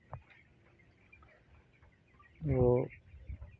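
In a home broiler flock of 25-day-old chickens, one bird gives a single short, fairly loud cluck against a faint background.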